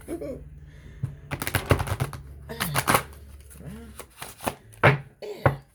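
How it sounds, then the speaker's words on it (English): Irregular bursts of cards riffling and clattering, close up, with pauses between, and a voice murmuring briefly in the background. "Sometimes I can try and shuffle them like a big old deck"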